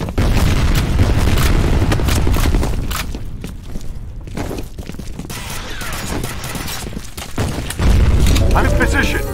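Grenade blasts and heavy gunfire in the video game F.E.A.R. Combat, a loud dense barrage of booms and shots that runs nearly throughout, with radio-style voices talking over it.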